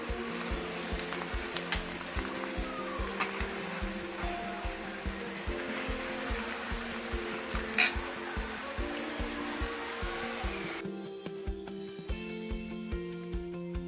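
Chicken rolls coated in bread crumbs fry in hot oil over a low to medium flame, giving a steady, close sizzle and crackle with a regular bubbling pulse, briefly dropping and then resuming near the end.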